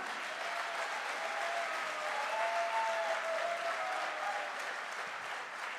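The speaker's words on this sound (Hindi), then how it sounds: "एक बार डायमंड वाली तालियां" Steady, dense applause from an audience at a direct-selling business event honoring a diamond-level promotion, holding a constant moderate level throughout with a faint whistle-like tone partway through.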